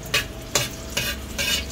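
Garlic browns in hot oil in a frying pan, a close, steady sizzle broken by a few sharp scraping stirs of a utensil, with no talking.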